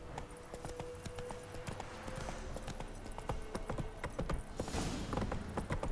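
A horse's hooves clatter in steady clip-clop beats in The Witcher 3, close and fairly soft, with faint game ambience and a brief whinny-like sound behind them.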